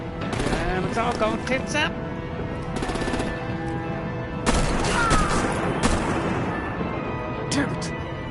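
Bursts of gunfire and artillery in a Batman: The Enemy Within action scene crack in dense, ragged volleys with loud peaks. A voice talks over the shooting.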